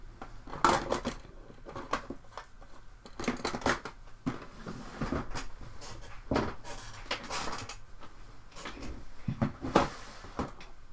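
Drawers packed with art supplies and paint are opened and shut in a home craft space, giving a string of irregular wooden knocks, rattles and sliding clatter, moderately close and without talk.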